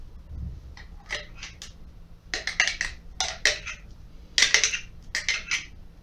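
Repeated scraping and clinking of a spoon against a bowl while mixing Olivier salad with mayonnaise, in uneven bursts, close and fairly quiet, with no voices.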